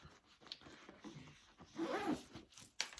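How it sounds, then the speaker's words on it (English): Fitting a zipper end cap onto a crossbody bag zipper produces soft rustles and a brief raspy zip in the middle, followed by a small click, quiet and close. "I have to put on my zipper end cap or my zipper"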